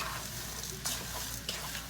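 Frozen riced cauliflower fries in a tablespoon of butter over medium-high heat, giving a steady close sizzle with two brief stirring scrapes partway through.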